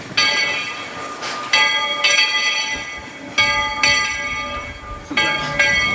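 A Magic Kingdom railroad train departs Main Street Station, rolling along with rhythmic clacking and repeated bright bell-like chimes ringing out at regular intervals, fairly loud and close.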